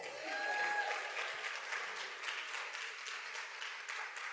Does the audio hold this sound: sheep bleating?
no